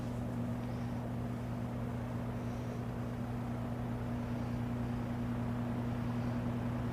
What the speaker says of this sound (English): And it's still building up a little bit of RPM on low.